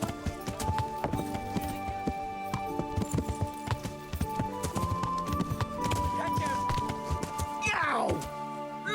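Horse hooves clip-clop in Kingdom Come Deliverance, a steady drumming of hoofbeats under game music and voices, with a sharp whinny-like cry near the end.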